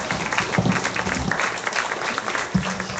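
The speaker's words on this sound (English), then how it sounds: "Let's give these individuals a nice round of applause on a good class" A crowd at a county fair swine show claps in steady applause for a heavyweight market gilt class, a dense crackle of many hands sustained for a few seconds, with a couple of louder thumps.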